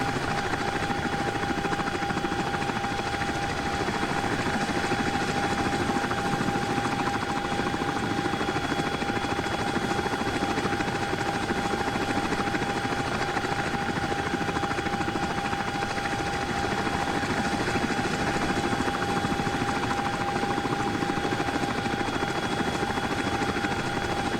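A CH-47D Chinook helicopter taxiing in the X-Plane 12 flight simulator, its steady twin-rotor drone and whining turbine tone holding loud and unbroken throughout, with no voices.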